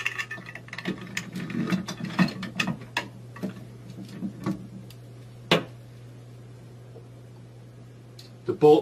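A ratchet with a 1/2-inch socket tightens a bolt and lock nut while mounting a wall pull-up bar, giving a run of short clicking ticks, louder early and sparse later, with a steady hum underneath.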